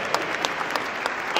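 An audience applauds at a foundation gala with brief, dense clapping and scattered sharper claps, close and fairly loud, with no voices over it.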